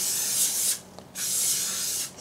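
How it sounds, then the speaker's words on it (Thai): Non-stick cooking spray hisses into a cake pan in two close, sharp bursts, the first longer than the second, with a short quiet gap between them. "สเปรย์กันติด"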